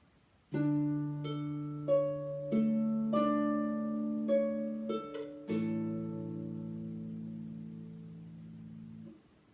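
A harp plays a slow, gentle phrase of plucked notes and chords, each pluck ringing out and overlapping the next, ending on a sustained chord that fades. No voices.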